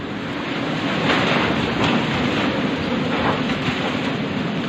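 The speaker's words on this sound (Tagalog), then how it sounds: "Pero mukhang ito yung hangin talaga ng bagyo." Typhoon wind roaring steadily around a residential community, a loud broadband rush with slow surges, close to the microphone and without voices.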